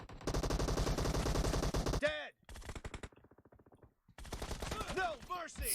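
Rapid automatic gunfire from a cheating opponent in an online shooter, dense bursts of shots in quick succession with short pauses between volleys, loud and close.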